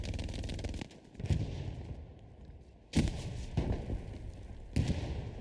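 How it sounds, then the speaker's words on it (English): Hell Let Loose video game: an MG42 machine gun fired from the hip in several loud, close, rapid bursts that start and stop abruptly, each followed by a short gap. A steady electrical hum sits underneath. "MG42 is very OP from the hip."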